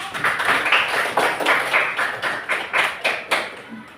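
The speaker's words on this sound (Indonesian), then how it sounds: "Tepuk tangan untuk kita semua." A class of schoolchildren clapping together in a classroom, a rhythmic burst of roughly a dozen loud, slightly uneven claps in a steady beat, close and lively with no talk over it.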